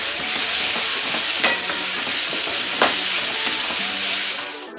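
Tomatoes frying in a pan for aloo gobi, a dry potato and cauliflower stir fry: a steady close sizzle runs throughout, broken by a few sharper scrapes of stirring, with no talking.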